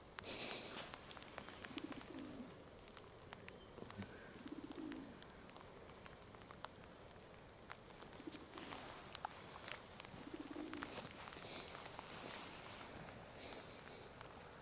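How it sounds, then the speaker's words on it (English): A gang of pigeons coos softly at a waterfront ship-spotting spot on the Westerschelde in the Netherlands, with several low, faint coos spread across a steady outdoor background. "Oh, there's more pigeons. Wait. There's a whole gang."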